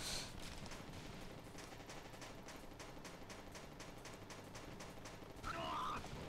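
Rapid heat gun fire in the Lost Dimension video game, a steady stream of evenly spaced shots rattling continuously for several seconds, with a brighter burst near the end.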